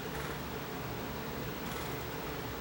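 An air conditioner running indoors, a steady faint broadband hum and whoosh with no other sounds over it.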